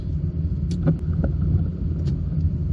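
A 1988 Toyota Starlet 1.0 GL (EP70) drives in first and second gear, its small engine a steady low rumble with road and wind noise, punctuated by a few brief clicks and knocks.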